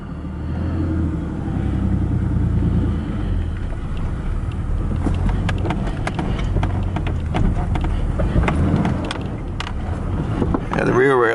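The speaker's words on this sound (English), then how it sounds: "The rear wheels are spinning." Ford Ranger pickup engine running in 4-wheel drive with the rear wheels spinning, a steady loud low rumble and revving throughout, with talk over it.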